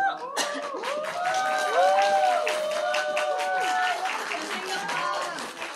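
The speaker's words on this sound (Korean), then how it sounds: "배우분들 나오셔서 인사하실 때 나오실 때 큰 박수 부탁드리겠습니다" A cinema audience claps for the director and actors of the Korean film 'A Normal Family' as they come out for a stage greeting. Steady applause runs underneath a person talking loudly over it.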